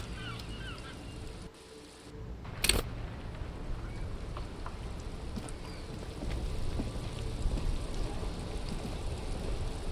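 Steady rain falls in the Disco Elysium video game, an even hiss of drops that swells slightly later on, broken by one sharp brief crack near the start.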